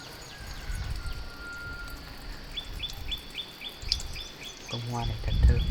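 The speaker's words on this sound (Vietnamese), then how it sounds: "bây giờ mình chỉ còn nghe thấy tiếng chim hót" Birds sing on a rural farm: a bright, repeated chirp pattern pipes up in a steady rhythm partway through, joined by other faint calls over quiet outdoor ambience, with a soft low thump near the end.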